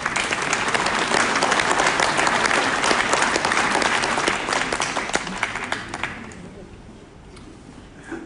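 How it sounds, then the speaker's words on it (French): Dense audience applause during a mayor's New Year speech, loud and steady before tapering off into a quieter room in the final seconds. "On peut l'applaudir."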